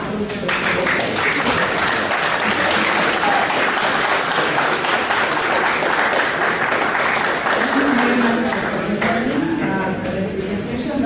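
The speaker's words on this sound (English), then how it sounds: "Let us give a loud applause to the" Applause from the audience at a stakeholders meeting on a maternal and newborn care bundle, a dense sustained clapping that fills the room, with a voice speaking faintly underneath toward the end.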